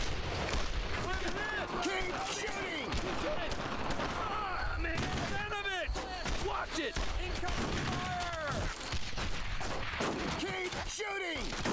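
Rapid, dense gunfire and bursts of automatic weapons fire from the World War II shooter Brothers in Arms: Road to Hill 30, loud and continuous throughout, with shouting voices mixed into the battle.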